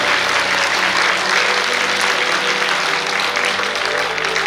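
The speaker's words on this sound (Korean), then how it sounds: "힘찬 박수 부탁드립니다." A large audience at a national Liberation Day commemoration ceremony gives sustained, loud applause, a thick continuous wash of clapping filling the whole stretch without a break.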